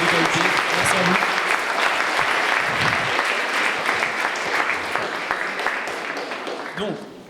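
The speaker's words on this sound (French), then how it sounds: "Donc, on peut encore les applaudir." Loud, full audience applause at a French debate contest, a thick wash of clapping that holds steady and slowly thins toward the end.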